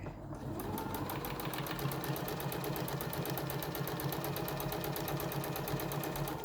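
A sewing machine stitches fabric for a window face mask, running in a steady, continuous rapid whir with an even mechanical rhythm from start to finish, close and alone without talk.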